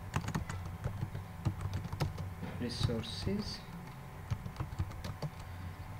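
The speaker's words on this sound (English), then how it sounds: "after typing the name and description" Quick, light clicks of typing on a computer keyboard come in irregular bursts, fairly quiet and close, while someone talks over them.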